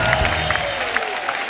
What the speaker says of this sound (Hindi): एक बार अनीता डॉट हसनंदानी के लिए जोरदार ताली।